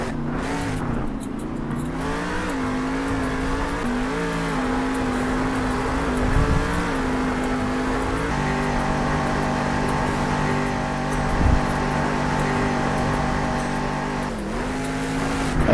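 Monster Mud monster truck engine revving loud and steady in an arena, its pitch rising and settling through sustained throttle with a couple of brief thumps, no voices.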